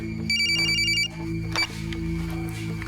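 A telephone rings with bursts of repeated bell tones, clear and close in a quiet indoor scene, followed by faint background sounds.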